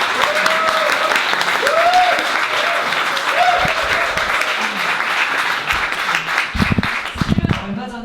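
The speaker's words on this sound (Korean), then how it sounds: "박수 다시 한번 보내주겠습니다" Audience applause at a Startup Grind Seoul event, a steady dense wash of clapping from a crowd lasting throughout, with voices and a few sharper sounds rising near the end.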